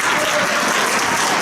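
A convention panel audience claps loudly and steadily in a packed room, a dense continuous wash of applause close at hand with faint crowd noise mixed in.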